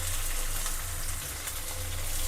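Chopped onion and green chillies fry in a pan for aloo methi sabzi, making a steady, close, even sizzle with no voices over it.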